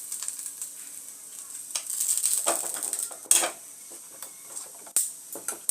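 Curry leaves dropped into hot oil for tempering, a crackling high sizzle with scattered sharp pops and spatters, close and alone without talk.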